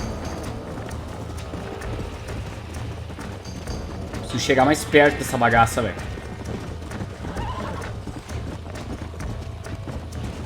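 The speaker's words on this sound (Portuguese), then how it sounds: "Nossa, como esse cavalo é rápido." A horse in the Red Dead Redemption video game gallops with steady clip-clop hooves and lets out a loud, close whinny midway, while someone talks over the game sound.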